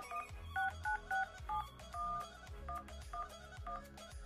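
Apple Watch phone keypad dialing, a run of short electronic tones pressed in quick succession with brief gaps, some notes held slightly longer, faint and close with no talk.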